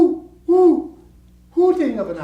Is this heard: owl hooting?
yes